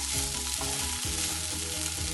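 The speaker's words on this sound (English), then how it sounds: "So then we add our soaked sabudana in it. And we give it a good stir." Soaked sabudana frying in a pan as it is stirred, a dense continuous sizzle up close with rhythmic scraping strokes of the spoon repeating about every quarter second, no voices.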